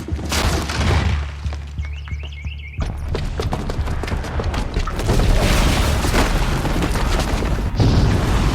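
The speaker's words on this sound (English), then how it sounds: "the booby trap on the bomb downstairs is gonna get set off" A bomb goes off in Horizon Zero Dawn: after a tense stretch of faint tones, a loud blast erupts and breaks into a long clatter of crashing, crumbling debris.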